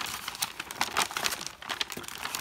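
A subscription box's plastic bag being cut open, giving a close, continuous crinkling and rustling of packaging over a couple of seconds.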